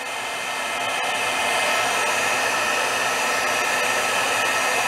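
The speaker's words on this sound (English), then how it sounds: "as your heat tool gets hotter," A heat embossing tool blowing hot air, a loud, steady close-up whoosh with a constant motor hum that holds unbroken throughout.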